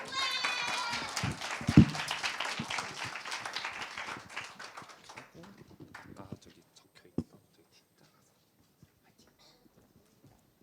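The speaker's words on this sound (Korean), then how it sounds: "큰 박수로 맞이해 주세요" An audience at a winter youth camp concert applauds to welcome a student leader to the stage. The clapping is moderate and fairly distant, thins out over about five seconds, and leaves near quiet with only a few scattered claps and small noises.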